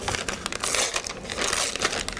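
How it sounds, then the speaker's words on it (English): Thin tissue paper being crumpled and crinkled for an encaustic wax collage, a continuous dense rustle with small crackling bursts, close and fairly quiet, with no voices. "Now let's use some of the tissue paper."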